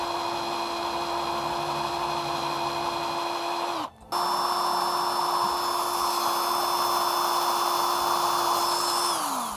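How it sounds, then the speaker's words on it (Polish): A steady high-pitched drill whine runs almost continuously close up as it drills into a broken, very hard metal stud, briefly cutting out once before resuming, with no voices. "teraz od razu przechodzę do większego wiertła"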